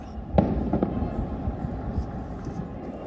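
A single sharp, distant explosion from an airstrike in Gaza booms near the start, followed by a few fainter thuds over a low, steady rumble.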